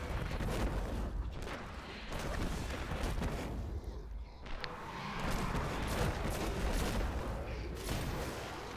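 Grenade explosions and gunfire in the video game Destiny, dense continuous bursts of booms and shots, loud and busy throughout with a brief lull midway.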